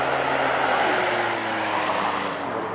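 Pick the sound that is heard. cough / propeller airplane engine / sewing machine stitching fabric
propeller airplane engine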